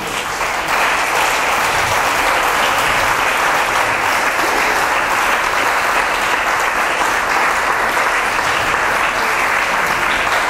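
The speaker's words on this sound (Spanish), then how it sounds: "un aplauso a nuestro Padre." A congregation at an evangelical church convention in Planeta Rica, Colombia, applauds loudly and continuously. The clapping forms a dense, even roar from start to finish with no talk breaking through.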